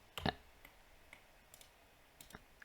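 Computer mouse clicking during 3D modelling in Blender: a handful of sparse, faint, sharp clicks, one slightly stronger near the start, in a quiet room with no talk.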